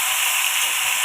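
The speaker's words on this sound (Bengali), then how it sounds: "এইভাবে উল্টে উল্টে ভেজে নেব" Snakehead fish frying in hot oil, cooked village style, gives a steady, bright sizzling hiss that runs unbroken and fairly loud, with no voices.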